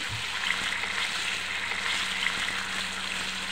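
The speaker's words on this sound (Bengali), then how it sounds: "আমি ফ্রাই প্যানে এখন মাংসগুলো দিয়ে দিচ্ছি।" Large beef chops frying in oil in a frying pan, giving a steady, even sizzle that holds at one level throughout, with no talking.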